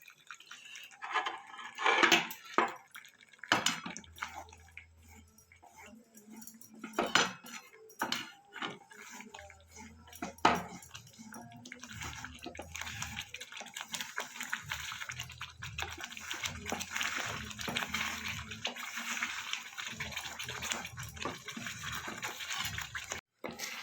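Water poured into cooked-down spiced masala for bhindi masala, a soft splashing pour amid clinks of utensils and pan scrapes, with a lower bubbling simmer building in the later half; no talk.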